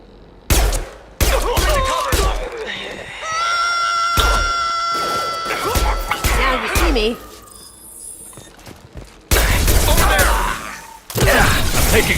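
Gunfire in the video game Mass Effect 2, loud bursts of shots and heavy impacts separated by pauses, with tonal game effects and voices in between.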